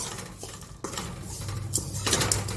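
Spice masala being mixed in a bowl, a few scraping stirs and light clinks of a spoon against the vessel, close and fairly loud, with no voice.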